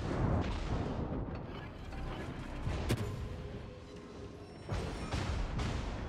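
Torpedo hits explode against a ship in the naval battle game World of Warships, heard as a dense rumbling roar with a sharp crack near the middle and another heavy boom toward the end.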